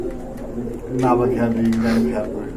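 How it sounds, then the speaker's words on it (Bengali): Giant Homa pigeons coo in low, rolling calls that swell in the middle, close by and mixed with someone talking over them. "জায়ান্ট হুমা কবুতর খুবই সুন্দর কবুতর"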